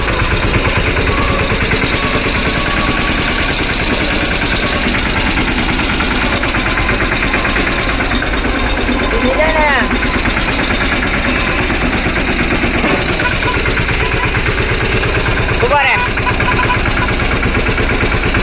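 A tractor engine idles loudly and steadily nearby, a constant low rumble with a few faint squeaks on top.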